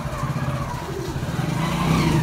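A motorcycle engine revs in jerky bursts while the rider applies repeated throttle jolts, giving a loud, close, rough rumble that rises and pulses throughout.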